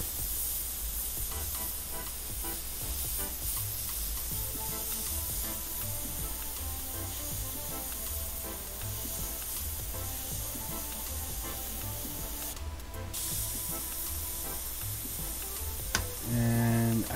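A Badger Velocity airbrush with a 0.5 mm needle sprays Createx clear coat onto a Yeezy Boost 350 sneaker, giving a steady continuous hiss that runs unbroken throughout and sounds close.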